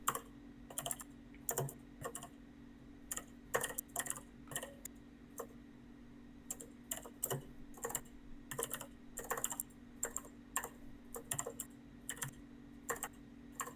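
Typing on a computer keyboard during a tabletop roleplaying game session: quiet, irregular bursts of key clicks with short pauses, close and alone over a faint steady hum.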